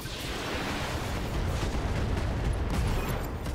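Ship weapons fire continuously at an enemy vessel in the Roguepoint video game, a dense, loud barrage of booming shots and blasts rolling together without a break, with no talk.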